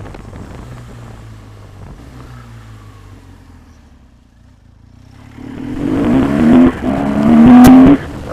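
A 2013 BMW R1200GS LC motorcycle engine rumbles under heavy wind noise, then revs hard and climbs in pitch during a wheelie, dipping briefly before surging loud again close to the microphone.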